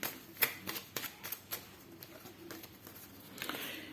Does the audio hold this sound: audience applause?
no